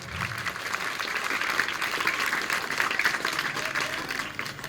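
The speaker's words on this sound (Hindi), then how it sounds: "जोरदार तालियां होना चाहिए।" Dense crowd applause from a massive gathering at an Independence Day commemoration, continuous and fairly loud with a steady wash of many hands.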